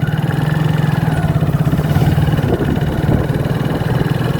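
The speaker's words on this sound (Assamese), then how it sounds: "ইফালৰ পৰা এখন বাইক আহি আছে।" A motorbike engine drones steadily along a forest road in the Borpani woodland area, a continuous mid-pitched hum that grows slightly louder midway as the bike draws nearer, with no voices.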